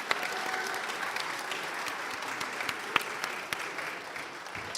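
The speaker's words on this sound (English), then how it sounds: "let's go a quick round of applause to the panelists today" A seated audience applauds panelists at a 3D-printing festival, a steady wash of many hands clapping held at a constant level throughout, with a few sharper claps standing out near the middle.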